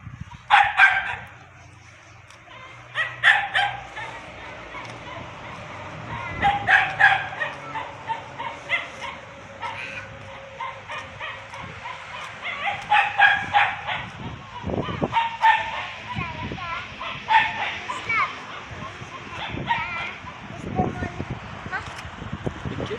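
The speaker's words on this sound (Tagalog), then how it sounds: "Yan ang aso sa kalye." A street dog barks repeatedly in irregular bursts, some yipping and whimpering between them, with people talking and background noise underneath.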